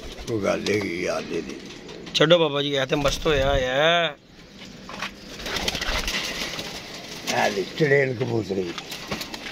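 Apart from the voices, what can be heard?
pigeon cooing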